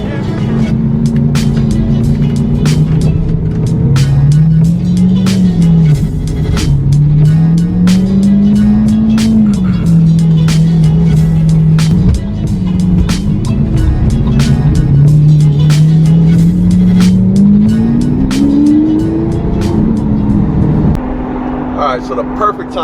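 A Lamborghini Murciélago running with no exhaust fitted gives a loud, raw engine drone that rises and falls steadily as it drives and revs, with sharp ticks and rattles over the top, close and continuous throughout.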